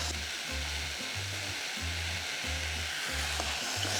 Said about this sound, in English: We're just going to stir fry this for about a minute or two